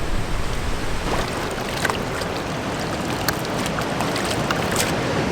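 Waves lapping and washing along the Dingle Peninsula shoreline in County Kerry, a constant close rushing of water with occasional brief splashy surges, heard alone without any voices.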